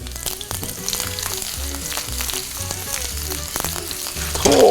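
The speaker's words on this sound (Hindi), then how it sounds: "तेल में सबसे पहले गई राई, राई के बाद मिर्च, अदरक" Mustard seeds, chili, ginger and garlic sizzle and crackle in hot oil for an Indian-style Gobi 65 dish, a steady close frying hiss with no talking.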